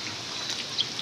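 Heavy rain falls during a flood in a steady, even hiss, with a few sharper drop splashes standing out.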